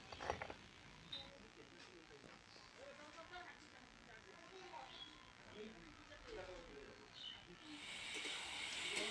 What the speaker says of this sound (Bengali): এদিকে একটু সিম ভাজাটা ভালো করে করে দিচ্ছি।